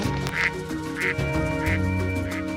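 Ducks in a rice paddy, where they feed on snails and insects, give loud, close quacks at a steady, evenly spaced rhythm over a constant low background hum.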